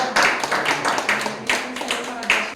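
Clapping at a church ministry gathering, a series of sharp, fairly close claps in an uneven rhythm, about five or six strikes with slight background reverberation.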